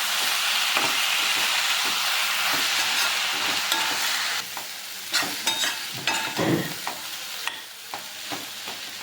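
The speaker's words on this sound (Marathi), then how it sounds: "आता याला चांगलं तेल सुटूस तर दहा मिनटं परतून देऊ आपण" Bitter gourd (karela) bhaji with homemade masala fries in oil in a pan, a steady loud sizzle broken by irregular scraping stirs, then easing to a quieter crackle with sporadic spoon knocks.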